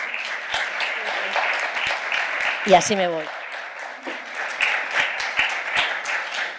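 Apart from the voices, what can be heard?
audience applause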